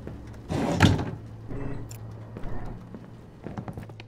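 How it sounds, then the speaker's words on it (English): A door closes in the video game Twelve Minutes with a firm thud and rattle, followed by soft footsteps and small knocks in a quiet room. "Close that door."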